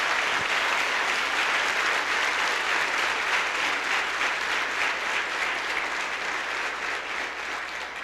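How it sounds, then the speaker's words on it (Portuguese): Sustained applause from a large congregation at a church worship service fills the space, a dense steady clatter of clapping that fades slightly toward the end. "Dê um aplauso àquele que vive e reina."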